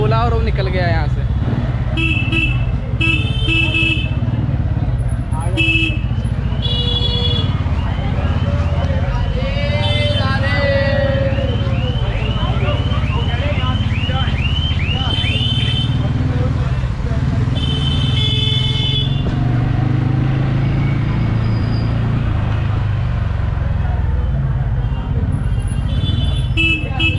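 Heavy street traffic in Vrindavan: car and motorcycle engines roar close by while horns toot and honk repeatedly in overlapping bursts, some long and wavering, over continuous dense road noise throughout.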